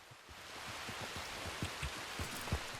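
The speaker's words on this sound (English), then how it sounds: "And now we're getting into rain" Steady rainfall in Red Dead Redemption 2, a dense hiss of drops with scattered heavier splats and patters pattering throughout, close and moderately loud with no voices.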